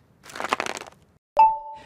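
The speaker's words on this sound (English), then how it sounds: "That's the intern Dale, cracking ice for a soda." A burst of crackling and crunching, like ice cubes splitting, followed by a sharp clink and a ringing tone that fades out.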